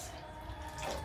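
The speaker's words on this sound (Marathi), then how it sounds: "अजून थोडंसं पाणी घालते ह्याच्यामध्ये मी" Water poured from a vessel into a pot of rice being cooked at home, a steady close trickling splash lasting the whole second with no talk.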